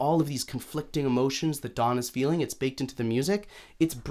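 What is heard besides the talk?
No everyday noises stand out.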